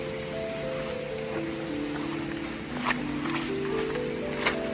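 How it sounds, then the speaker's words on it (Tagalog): A stream runs on farmland property in Guinayangan, Quezon, giving a steady rushing wash of water heard close and continuous, with a faint tonal hum over it and a couple of brief knocks. "May naririnig akong agos ng tubig."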